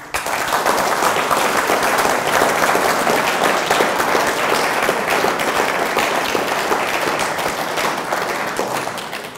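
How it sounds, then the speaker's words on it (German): Audience applause fills a televised political debate on the euro, a dense, steady wash of many hands clapping at close range throughout, fading slightly toward the end. "Applaus"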